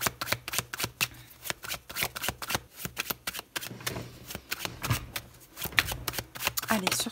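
Tarot cards are shuffled and laid down in quick, crisp riffles and soft slaps, close and steady throughout, with a voice speaking quietly underneath.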